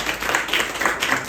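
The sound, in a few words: audience clapping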